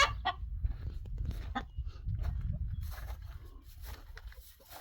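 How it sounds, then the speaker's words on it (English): Hen sitting on eggs on a small ranch, giving low, quiet clucks and a few sharper calls, close but faint over a soft background. "Check out my chickens over here real quick one time."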